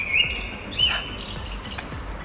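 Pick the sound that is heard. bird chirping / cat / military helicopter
bird chirping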